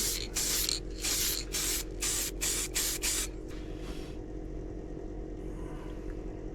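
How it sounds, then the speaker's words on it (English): An aerosol can of cellulose sanding sealer sprayed onto a turned beech bowl hisses in a quick series of short bursts, then a longer spray fades out, leaving a low steady hum behind. "Just using Chestnut Products cellulose sanding sealer that's aerosol."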